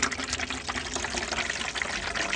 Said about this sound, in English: Press button, water.